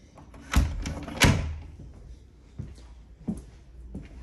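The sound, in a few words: small door being opened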